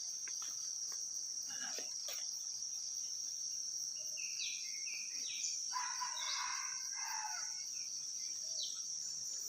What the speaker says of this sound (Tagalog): Yan yung tilaok ng wais mga master